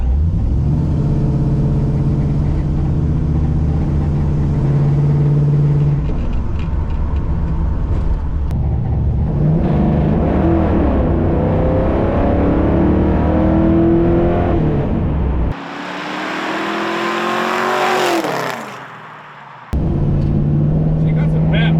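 A 1981 Camaro with a swapped LS V8 revs and accelerates hard, its engine note climbing through gears loud and close from inside the car, with a brief dip as the throttle lifts before it pulls again.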